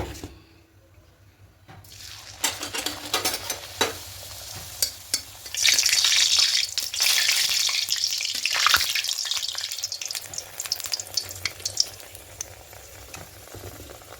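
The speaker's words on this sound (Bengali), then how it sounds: "এদিকে কড়াই আগে থেকে তেল বসিয়ে দিয়েছিলাম, তেলটা গরম হয়ে এসছে। এবার এখানে একে একে ছেড়ে দেব।" Spinach puris dropped one by one into hot oil in a wok crackle and sizzle, starting with a few stirring clinks before a steady, bright frying hiss swells up close and continues.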